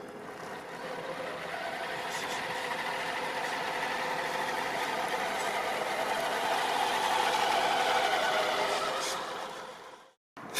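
A full metal military RC truck pulling a trailer carrying an adult of about 76 kilos, a steady whirring motor drone that holds for several seconds, swells slightly, then cuts off abruptly near the end.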